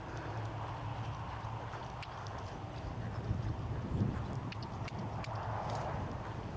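Horse hooves trotting in a riding arena, a steady soft rhythmic clip-clop of footfalls at moderate distance with light wind noise and no talking.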